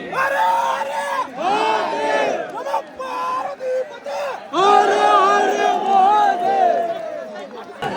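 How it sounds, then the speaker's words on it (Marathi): A large crowd at a Shivrajyabhishek celebration, with many voices shouting and chanting together in loud rhythmic bursts and brief gaps, a dense near chorus throughout. "मित्रांनो अनकंट्रोलेबल गर्दी झाली आहे."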